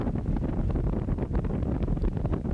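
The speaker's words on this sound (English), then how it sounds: "It's so windy here" Strong wind in Alaska buffets the microphone with a constant low rumbling roar, gusting unevenly, and no voices are heard.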